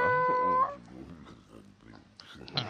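A cat in the Baldur's Gate fantasy role-playing game lets out a short, clear meow at the start, followed by quieter rustling and a couple of faint sounds.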